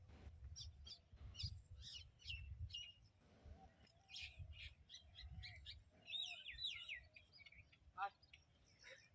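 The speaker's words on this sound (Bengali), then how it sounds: "চারিদিকে পাখির ডাকগুলো শুনতে পাচ্ছ তো" Many birds chirp and call all around in a quiet village, with bursts of tweets and song scattered through the clip over a low rumble, and a faint voice briefly under them.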